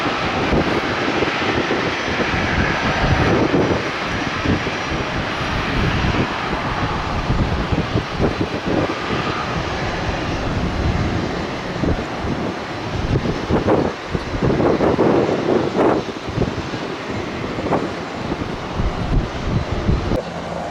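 A Global Express business jet roars down the runway on takeoff at Tampa airport in windy, rainy weather, giving a loud, sustained engine rumble mixed with gusting wind noise on the microphone and no talking.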